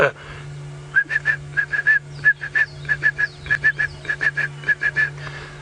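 A person whistles a rapid series of short, bright, rising notes in quick succession, imitating a Stierling's wren-warbler call, over a steady low hum.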